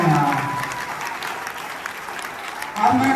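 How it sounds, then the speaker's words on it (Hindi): An audience at a school retirement party breaks into sustained applause, a dense wash of claps that holds steady for a few seconds, with a voice rising at the end. "अरे एक बार जोरदार ताली तो बजा दो यार"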